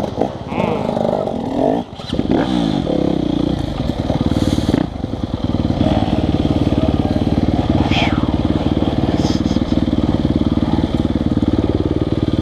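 Yamaha YZ250FX enduro motorcycle on a trail section, its engine running loud and close throughout, with a brief throttle dip and rough mechanical clatter, and a rider's voice heard faintly over it.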